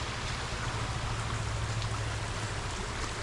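A creek at an RC event park flows with a steady, broad rushing and trickling wash, continuous and fairly close, with no talk.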